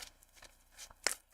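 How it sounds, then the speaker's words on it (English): Tarot cards shuffled by hand during a reading, giving a string of soft, papery slaps and riffles with a couple of sharper snaps near the end, close and fairly quiet, with no talking. "2 shuffles for Cancer."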